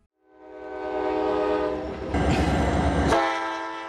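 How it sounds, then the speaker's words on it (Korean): An Alaska Railroad tourist train passes close by, sounding a long loud horn blast over a rising rumble of wheels and cars, with the horn cutting off as the rolling noise fades. "대표적인 것이 이 알래스카 열차입니다."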